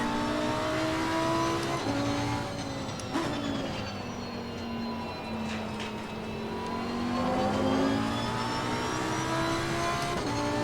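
Race car engine in Assetto Corsa Competizione, droning and revving steadily with pitch rising and falling through gear changes, loud and continuous throughout with no speech.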